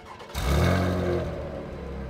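A car engine cranks and fires up, then settles into a steady, fairly loud idle with a rich low rumble, heard up close with no talking.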